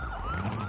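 A siren in the video game Beyond Good & Evil HD, a steady wailing tone rising and falling slightly over a low rumble, loud and close.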